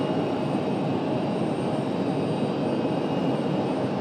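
A Frontier Airlines airliner passes at Raleigh-Durham International Airport, its engines a loud, steady, broadband roar that holds evenly throughout.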